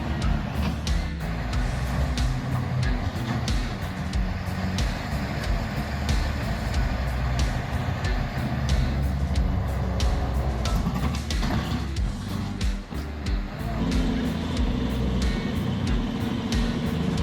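Engine of a TT4 forestry tractor with 120 horsepower working through mud, a steady mid-level droning rumble with clanks and knocks scattered throughout.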